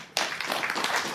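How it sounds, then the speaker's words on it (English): An audience at a talk on fossil fuels breaks into sudden clapping that runs as a brief, dense burst of applause. "Applause is fine."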